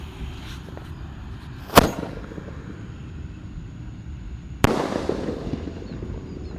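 Roman candle fireworks fired at a festive holiday celebration: two sharp bursts a few seconds apart, each with a booming crack and a crackling, hissing tail, over a steady outdoor rumble of background noise.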